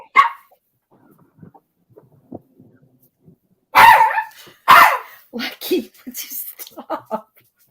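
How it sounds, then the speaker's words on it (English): A dog barks in a few loud, close bursts after a quieter stretch, followed by smaller yips and whimpers, outdoors on a fishing outing. "Lucky's barking at Tater."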